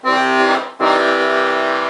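Two sustained, rich left-hand bass chords from a Weltmeister Juwel accordion, the first cut off briefly before the second sounds, loud and close.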